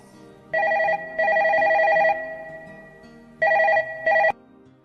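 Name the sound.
telephone ringing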